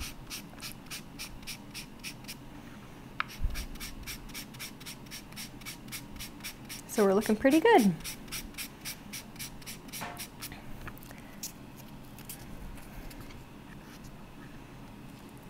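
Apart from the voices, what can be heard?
sanding metal clay pendant with microfine sanding pad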